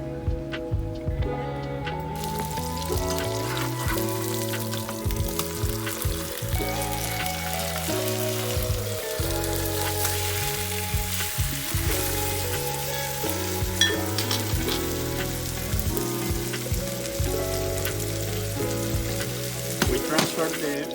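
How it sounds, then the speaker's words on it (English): Salmon steaks sizzle in olive oil in a pan over low to medium heat, a steady crackling fry with scattered pops, heard up close with soft background music and no talk. "I add more olive oil and I place the salmon steaks. In low to medium heat."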